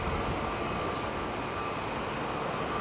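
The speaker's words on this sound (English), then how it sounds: "Look at this lovely old 737 lining up down below me" A Boeing 737-800 lines up on a Heathrow runway, giving off a steady, broadband jet roar that holds at an even level throughout, distant and continuous with no voices.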